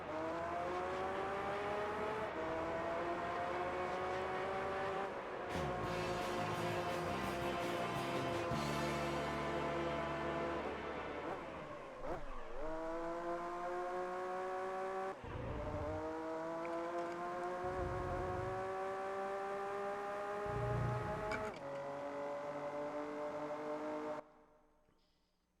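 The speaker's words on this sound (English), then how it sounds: "Gran Turismo engine sounds are like so weird but good at a certain era." Race car engines from the PS2 game Gran Turismo 3 whine and rise through gears, with repeated climbing revs, sharp shift drops and a sustained high-pitched tone, loud and continuous before cutting off at the end.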